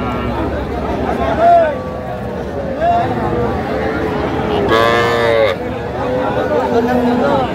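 Cattle moo repeatedly at a busy cattle market selling young bulls and heifer calves, one long loud low call standing out among murmuring voices and crowd chatter throughout.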